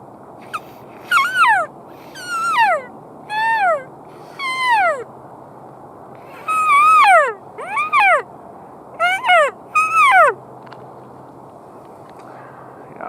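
A hunting call blown badly, giving about a dozen short, wavering, downward-sliding squeals and whines in uneven bursts. The squeals are close and moderately loud with quiet gaps between them.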